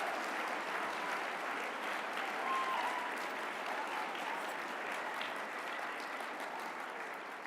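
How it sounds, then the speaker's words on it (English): An audience at an awards ceremony gives sustained applause, a dense, even wash of clapping heard at moderate distance, lasting several seconds without letting up. "So let's give ourselves a round of applause."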